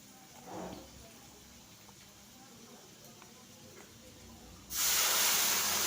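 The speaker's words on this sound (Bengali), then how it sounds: "কাঁচা লঙ্কা এবং আদা বেটে রেখেছিলাম, সেটা আমি আলু ভাজার মধ্যে দিয়ে দেব।" Potatoes frying in oil hiss quietly in the background. When the green chili and ginger paste goes in, a sudden loud, steady sizzle erupts and continues to the end.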